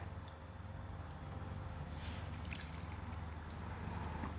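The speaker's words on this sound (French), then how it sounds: "On va verser le bouillon dedans." Broth pouring into a ramen bowl makes a steady, soft liquid stream with faint trickling, continuous and close throughout under a low background hum.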